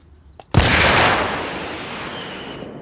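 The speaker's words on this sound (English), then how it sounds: "Obviously, it's a way bigger explosion." A 105 mm round explodes in the Arma Reforger video game, a sudden loud blast after a couple of faint clicks, followed by a long, slowly fading roar and rumble.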